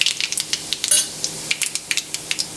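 Mustard seeds, cumin and two crushed dried chillies sizzle in hot oil for a tempering, giving a soft hiss broken by frequent sharp, irregular pops and crackles.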